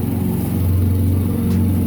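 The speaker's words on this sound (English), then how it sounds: "sorry for the lawnmower" Lawnmower engine droning steadily in the background, a constant mid-pitched hum with a low rumble, moderately loud and unbroken throughout.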